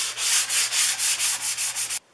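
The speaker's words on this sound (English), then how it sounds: "after a light sanding and some 4-aught steel wool" Fine-grit sandpaper rubs back and forth over a Stanley No. 129 Liberty Bell fore plane in light sanding, nine or so quick, even strokes of close, raspy hiss before stopping abruptly.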